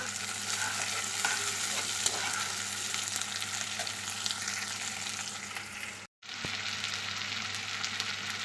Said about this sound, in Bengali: এখন ওর মধ্যে দিচ্ছি টমেটো হালকা করে নেড়ে দেব